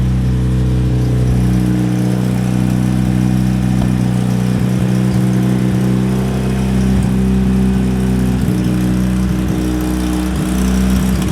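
A car engine fitted with a Holset turbo runs close by with a steady, deep idle hum and a faint whirring layer, holding constant throughout.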